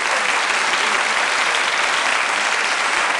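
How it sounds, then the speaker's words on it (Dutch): A television game-show studio audience applauds in a dense, steady burst of clapping, loud and sustained throughout. "geef ze een applaus alsjeblieft"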